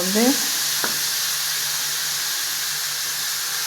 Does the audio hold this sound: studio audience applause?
no